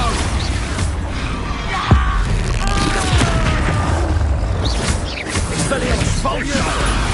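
An Expulso explosion spell goes off during a Hogwarts Legacy PS5 battle: one sharp booming blast near the two-second mark stands out over a steady wash of loud combat noise and clattering spell effects.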